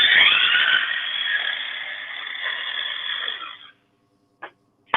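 A loud blender grinds capers, anchovies and tuna into a paste, running steadily for a few seconds and then stopping, with two brief bursts of whirring afterward.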